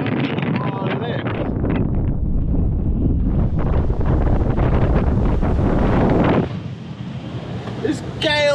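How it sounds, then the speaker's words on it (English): Gale-force coastal wind of around 40 knots roars and buffets the microphone in a loud, continuous rush, easing slightly near the end as surf and water noise carry on underneath. "There's gale force out there. I mean, this must be 40 knots."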